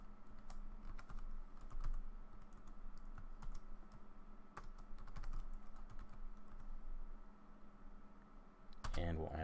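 Quick, light computer keyboard keystrokes tap out a password in irregular bursts, close and quiet, ending with a louder flurry of clicks.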